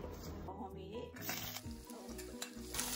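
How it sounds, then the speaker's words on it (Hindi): Chopped onions sizzle and fry in oil in a kadhai, a continuous crackling hiss with stirring scrapes and occasional pan clinks, with a voice speaking over the cooking. "अब हम इसे प्याज को 5 मिनट तक भूनेंगे कढ़ाई में"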